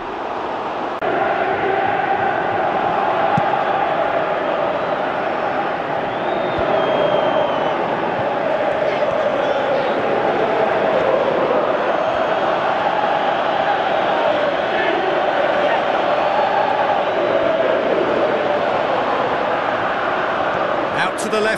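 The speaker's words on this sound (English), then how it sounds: "Crowd calling for him to shoot" A football stadium crowd at a Jamaica versus USA World Cup qualifier roars steadily, urging a player to shoot, the broad swell of voices filling the background under continuous commentator speech.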